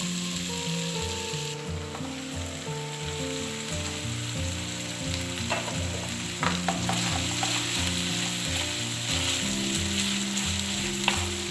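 Chicken and potato filling for Cornish pasties steadily fries and sizzles in a pan, a constant close hiss with occasional stirring scrapes and clinks of a spoon.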